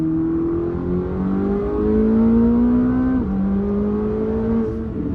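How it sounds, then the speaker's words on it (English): A very fast car's engine climbs through revs in steady rising pulls, its turbos building and bleeding off pressure between gear changes, a droning whir heard from inside the cabin with no talk. "And the turbo sounds, I can hear it actually building and letting pressure off."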